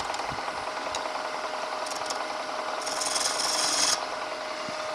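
A wood lathe gouge scrapes steadily inside a hollow form, a continuous rasping hiss with a faint hum, growing briefly louder and brighter near the end.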